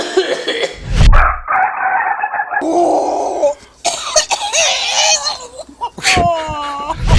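A rooster sick with tuberculosis crows with a strained, wavering call that breaks into rough, hacking coughs, with a sharp cough burst near the start and another crow-and-cough at the end, all close and loud.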